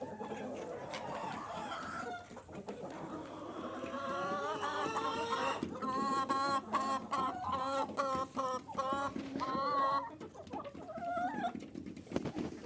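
Chickens and roosters in a coop keep up loud, overlapping clucks and squawks close by, with repeated sharp calls building in the middle and a low murmur under them throughout.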